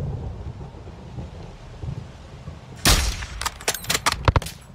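A sniper rifle shot in Call of Duty: Modern Warfare II bursts out loud and sharp after a quiet windy stretch, followed by several rapid cracking impacts and echoes.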